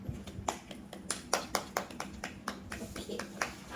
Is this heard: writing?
no